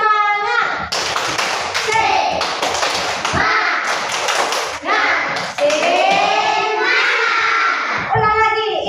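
Second-grade schoolchildren in an elementary classroom perform a rhythmic clapping chant, sharp claps in patterned bursts mixed with their loud chanting voices throughout.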